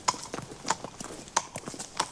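A horse's hooves clip-clop on a hard surface in a steady walking rhythm, each clear, close strike followed by softer scuffs in between.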